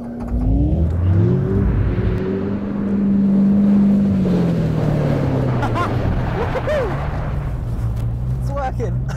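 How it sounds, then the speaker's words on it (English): A car drifting and spinning in circles on an ice driving course in Lapland, its engine droning and rising and falling in pitch under steady wind buffeting, loud and close throughout. "Drifting, I'm drifting, but that's... Come on, that's four spins already."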